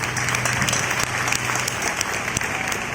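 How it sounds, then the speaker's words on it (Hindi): Steady applause from a crowd, continuous clapping filling the whole stretch with no pauses. "आप सब के बहुत सारी तालियां।"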